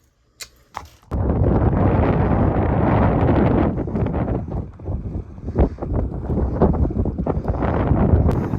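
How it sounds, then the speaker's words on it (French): Strong gusting wind buffets the microphone in a loud, continuous roar after a brief quiet start, with occasional sharp knocks. "vous entendez quoi, le vent"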